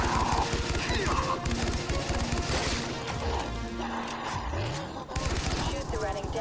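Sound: gunfire shooting running dead in Far Cry 3: Blood Dragon video game

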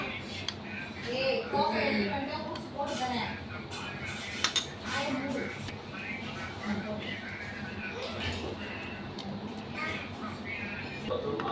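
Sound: stirring sweet egg mixture in a pan with ghee

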